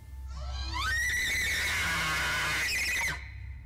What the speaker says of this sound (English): This high-pitched scream is honestly the last thing I would have expected to hear come out of a moose's mouth.